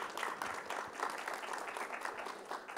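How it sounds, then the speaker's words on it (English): An audience at a Miss World stage event applauds the panel, steady dense clapping at a moderate distance, fairly quiet and continuous for a few seconds. "let's give the entire panel a huge round of applause"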